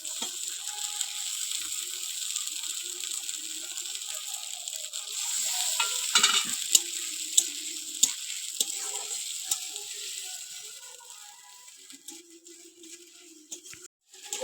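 A garlic, green chili, coriander and cumin paste sautéing in a pan for katla fish kalia, a steady bright sizzle with occasional clicks and scrapes of stirring, no voices.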